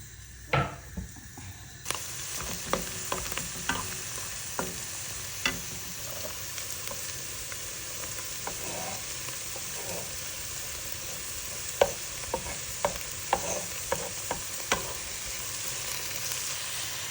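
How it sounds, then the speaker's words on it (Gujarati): Onions sauté in a pan for green pav bhaji, giving a soft continuous sizzle with scattered light clicks and scrapes of stirring. "ઓનિયનને આપણે થોડી વાર સાંતળી લઈશું"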